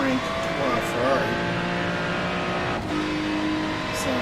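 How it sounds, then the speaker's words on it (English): Ferrari race car with a V8 flat-plane crank engine at the 24 Hours of Daytona, a steady high engine whine with shifting pitch holding throughout, heard from a distance under an ongoing broadcast mix. "Switch over to the V8 flat plane crank Ferrari."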